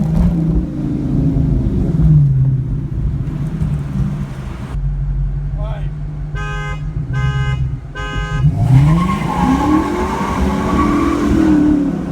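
A Dodge 5.7L Hemi V8 roars and spins its tires, with squealing rubber rising and falling over loud engine revving, broken midway by several short repeated electronic beep tones.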